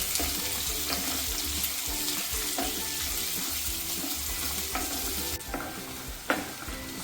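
Chopped onion frying in a pan for Karnataka-style masala chitranna, a steady close sizzle with repeated stirring scrapes throughout, no talking.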